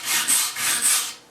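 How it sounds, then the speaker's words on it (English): A hand brush scrubs dirt off weathered wooden pallet slats in three quick back-and-forth strokes, close and raspy with no talking. "you're just going to give it a good brushing to get most of the dirt off"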